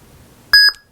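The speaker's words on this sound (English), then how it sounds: "when the saber is powered off, you hold the aux button till you hear a beep" A Saber Forge lightsaber gives a single sharp electronic beep with a brief tonal tail while switching sound fonts, loud and close after near silence.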